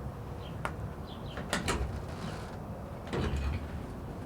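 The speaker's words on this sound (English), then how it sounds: "has like this little mechanism in it to where when you lift it up, that pops out" Door prop mechanism on a 1985 Nissan 4x4 being lowered, giving a few close mechanical creaks and clunks, with a sharp click near the start and firmer sliding rattles in the middle and toward the end.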